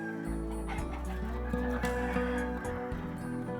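Chickens of a breed raised for both eggs and meat cluck close by in a series of short, rhythmic calls with brief pauses between them.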